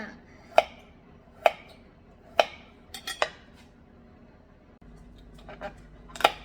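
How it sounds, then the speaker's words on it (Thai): A kitchen knife chops carrots on a board while a salad is made, giving several sharp, close chops spaced unevenly, some in quick pairs, with quiet pauses between. "มีแครอทนะคะ หั่นเลยนะคะ"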